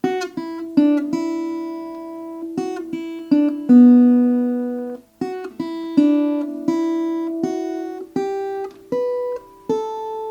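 A clean electric guitar plays a riff one note at a time, plucked notes ringing out in a repeating rhythmic pattern, clear and close.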